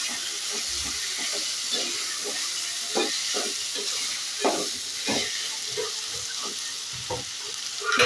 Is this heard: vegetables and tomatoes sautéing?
yes